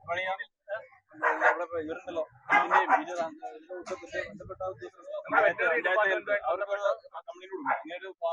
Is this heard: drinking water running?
no